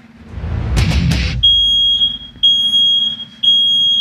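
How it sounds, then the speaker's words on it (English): A kitchen smoke alarm shrills in loud, high repeated beeps, each tone held about a second with short gaps, after a brief burst of clatter at the start. "This alarm can't be silenced."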